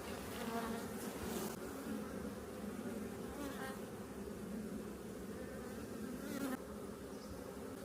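Buckfast honeybees drone in an open beehive from a recent swarm, a dense, steady hum of many wings close by, unbroken throughout with a few louder individual passes.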